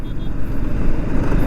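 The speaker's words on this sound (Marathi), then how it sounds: "आणि गाडी बघा किती फास्ट चालली भाई" A car speeds along a rough road, its engine and the road rumble forming a loud, steady, close drone.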